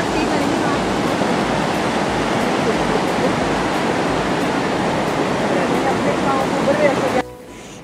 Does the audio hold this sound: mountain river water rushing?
yes